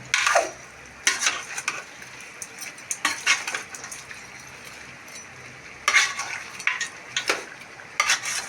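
A spoon stirs Chintamani chicken frying in oil in a pan, with repeated bursts of scraping and clinking over a soft, steady sizzle, close by and without talk.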